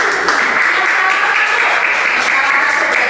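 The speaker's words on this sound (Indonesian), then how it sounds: "Tepuk tangan." Applause from a classroom of students: dense, continuous clapping at a fairly loud, even level for about three seconds.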